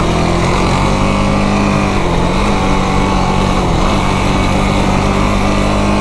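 A Yamaha YFZ 450R ATV engine roars continuously and loudly on dry desert ground, with a rough, wavering drone as the tires spin without traction.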